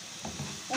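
Spices and chicken are stirred in a hot pan, a short soft scrape of the spoon over a faint steady sizzle, close and quiet.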